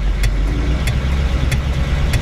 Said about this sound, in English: So we crawl back in this thing at an idle.